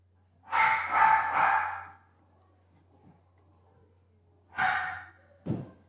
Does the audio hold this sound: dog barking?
yes